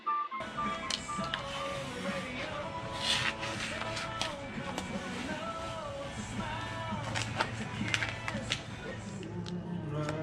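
A vinyl cutter plots decal pieces for a memorial plaque, giving a close, steady whir with shifting motor tones and scattered light taps throughout, at moderate volume with a faint voice in the background.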